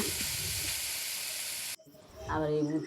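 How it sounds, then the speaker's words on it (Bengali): Pointed gourd seeds and peels fry in a pan, a strong, even hiss and sizzle that cuts off abruptly, followed by quieter kitchen clatter and a voice. "পানি শুকিয়ে আবারও আগের মতো করে নিয়েছি এবং একটু ভাজা ভাজা করে নিচ্ছি যাতে কাঁচা কোনো গন্ধ না থাকে"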